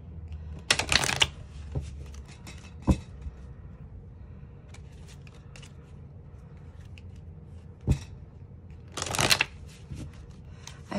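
Oracle cards being shuffled, two short bursts of crisp riffling near the start and end with a few sharp taps in between and a soft, quiet background, no voices.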